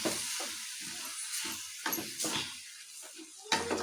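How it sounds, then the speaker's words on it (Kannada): Greens and lentils frying for sambar in a pan, a steady soft sizzle broken by several short stirring scrapes. "ಎಲ್ಲ ಫ್ರೈ ಮಾಡ್ಕೊಂಡು ಸ್ವಲ್ಪ ಚೆನ್ನಾಗಿ ಫ್ರೈ ಮಾಡ್ಕೊಳ್ಳಿ"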